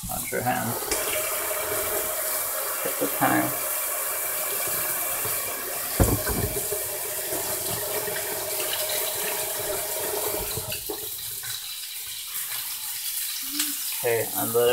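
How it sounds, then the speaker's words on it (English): Tap water runs steadily into a kitchen sink during hand washing, a continuous close splashing rush with a few clunks and a brief dip near the end. "Wash your hands."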